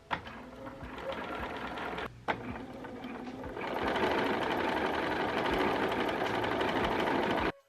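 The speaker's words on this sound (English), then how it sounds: "set up my gathering foot on my sewing machine. I had to kind of pull it a bit as I stitched" A sewing machine stitches a ruffle through a gathering foot on a vintage-style reversible dress, its steady motor hum running continuously, briefly pausing near two seconds, then growing louder and denser for the rest of the clip.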